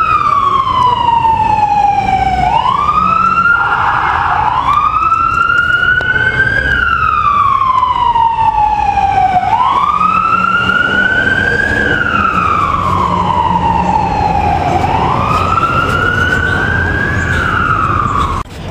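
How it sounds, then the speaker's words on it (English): An ambulance siren wails loud and near in a slow rising-and-falling sweep, repeating several times without pause over steady background traffic rumble. "Sounds like the ambulance is showing up."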